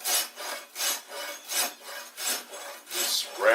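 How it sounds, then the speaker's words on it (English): Rhythmic back-and-forth filing of wood with a horse hoof rasp, each stroke a broad rough scrape, about six even strokes in steady succession, close and alone with no talk. "This rasp is a tool that I got from the seed and feed store, made to trim horses' hooves by furriers."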